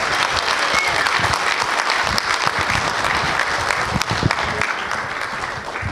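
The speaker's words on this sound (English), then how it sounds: "Let's give him a nice round of applause" Steady, dense applause from a large awards-ceremony crowd, loud and continuous throughout, tapering slightly toward the end.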